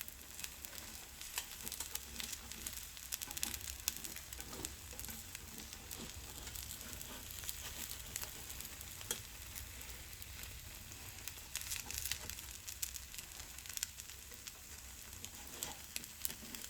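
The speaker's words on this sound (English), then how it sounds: "Let your Spanish tortilla cook for around 5 minutes" Eggs and potatoes cook in hot olive oil in a pan for a Spanish tortilla, giving a soft, continuous crackling sizzle that stays quiet and even throughout, with no voices.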